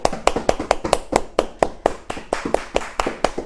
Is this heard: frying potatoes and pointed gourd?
no